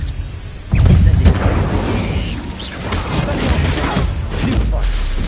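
A fire spell cast in the Hogwarts Legacy video game bursts with a loud whooshing boom that fills the space, then trails off into a sustained rumbling roar.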